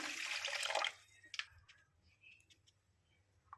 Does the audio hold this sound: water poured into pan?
yes